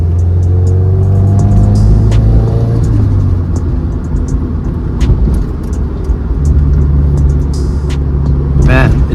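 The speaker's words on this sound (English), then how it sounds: "this titanium exhaust sounds so damn good with the equal length headers." Subaru WRX with a titanium exhaust and equal-length headers drones loudly from inside the car, a deep rumbling engine note that holds, eases, then climbs again as it accelerates.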